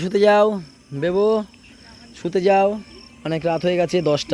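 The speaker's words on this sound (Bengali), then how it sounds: "ঝিঝি পোকা ঝিউ করে ডাকছে।" Crickets chirping at night in the Sundarbans, a thin steady high trill running faintly beneath loud, close conversation between people.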